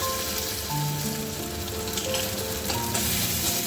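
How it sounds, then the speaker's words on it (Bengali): Garlic and a ground paste of ginger, mustard and green chilli fry in hot oil in a pan, a steady dense sizzle with faint stirring, loud and close with no voices. "এরপরে আমি দিয়ে দেবো অল্প একটু রসুন পেঁয়াজ তো আমার আগেই দেওয়া ছিল এবার রসুনটা হয়ে গেলে পরে আমি দিয়ে দেবো ওই যে আদা আর সর্ষে কাঁচা লঙ্কা বেটে রেখেছিলাম"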